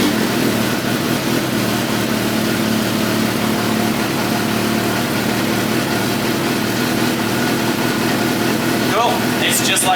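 A motorcycle engine runs steadily after its rusty fuel tank was cleaned, a loud continuous idle holding through the whole stretch with a brief rise near the end; a person talks over it.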